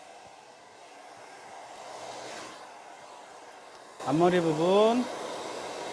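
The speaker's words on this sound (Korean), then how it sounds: "드라이기로 마무리를 해주도록 합니다." A hair dryer blows steadily while finishing a hairstyle, a constant airy whoosh that carries under a person's speech in the final seconds.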